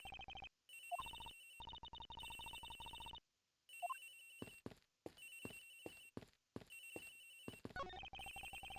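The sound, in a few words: telephone ringing in the video game Ace Attorney Investigations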